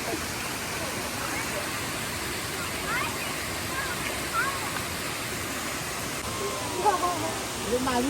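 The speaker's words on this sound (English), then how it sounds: "Look at that nice waterfall." A waterfall near a black sand beach in Samoa, heard as a steady, broad rushing roar of falling water that stays constant throughout, with faint voices of people nearby.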